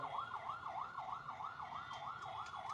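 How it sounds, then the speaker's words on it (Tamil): An ambulance siren sounds steadily in a wailing, rising-and-falling cycle on a street during a political walking tour in Salem, Tamil Nadu, loud and continuous against traffic hum with no talk over it. "ஆம்புலன்ஸ் அப்படியே கொஞ்சம் வழி விடுங்க"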